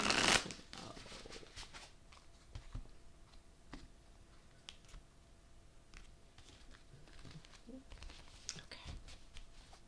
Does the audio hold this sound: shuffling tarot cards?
yes